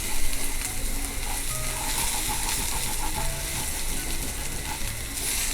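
Onion sautéing in a hot steel pan on a gas flame for chicken keema, a steady, dense sizzle and frying hiss with faint scraping, close and continuous throughout.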